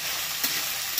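Potato, papaya and chickpeas fry in a pan with a dense, steady sizzle close up, broken by two brief stirring scrapes.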